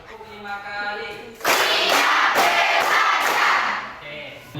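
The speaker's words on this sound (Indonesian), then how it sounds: "Tepuk 5 kali." A class of students claps together in a loud burst of several quick, crisp claps, close by, following a teacher's spoken cue.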